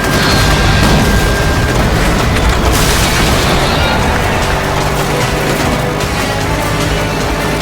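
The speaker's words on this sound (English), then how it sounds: "Pass close to the explosion." A loud, sustained explosion roars in the stunt-driving video game Stuntman: Ignition, dense booming blasts and crackling debris filling the whole scene with no letup.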